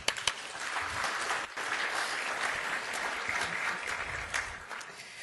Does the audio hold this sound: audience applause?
yes